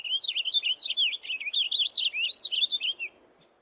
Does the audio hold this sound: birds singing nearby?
yes